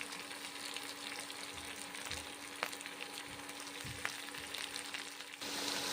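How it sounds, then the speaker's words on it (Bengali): Cabbage fries in hot mustard oil with nigella seeds, a low, even crackling sizzle with a few soft knocks and pops, fairly quiet and close, no voices. "গরম তেলে ছেড়ে দিচ্ছি।"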